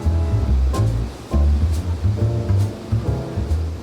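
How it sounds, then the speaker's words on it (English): Water gushes through the opening lock gates at Lockport, a loud, rushing surge with heavy low-end churn and uneven swells of turbulence. "I experience the gushing and loud sounds of the water through the opening gates."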